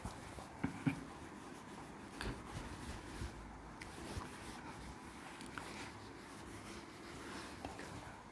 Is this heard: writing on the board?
yes